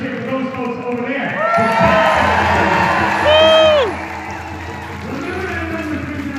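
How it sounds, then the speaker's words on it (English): A large outdoor rally crowd of about 3,000 people erupts into loud sustained cheering, whoops and shouts, with one rising shrill whistle-like cheer in the middle before the noise settles back to a steady murmur. "Let's cheer for those folks over there."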